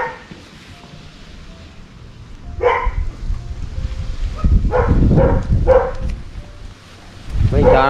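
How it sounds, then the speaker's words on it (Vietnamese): A dog in a backyard setting barks in several short bursts, fairly close and loud, with wind and low rumbling noise in the background. "nhiều khi mình đi ra ngồi sau mình nói cái gì đó thì nó sủa thôi"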